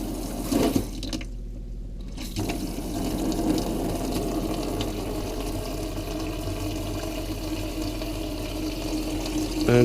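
Water runs steadily from the cold tap of an Adria motorhome right after the water system's pump has been winterized, a continuous close splashing rush that briefly dips before carrying on.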